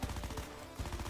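Rapid bursts from an MX9 submachine gun in Call of Duty Mobile, two quick strings of close automatic fire separated by a brief pause around the middle.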